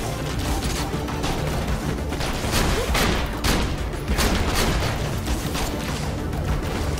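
Grenade explosions in the video game Borderlands Pre-Sequel, a dense loud barrage of booms and gunfire-like blasts that continues without pause.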